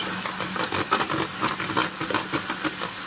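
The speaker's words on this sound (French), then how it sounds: "Je continue de battre le mélange." An electric mixer beats cake batter made with oil and eggs. The motor gives a steady whirring hiss, and the beaters knock against the bowl in quick, uneven bursts, close up and fairly loud.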